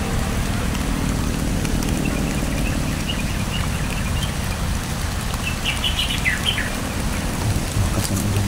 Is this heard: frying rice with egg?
no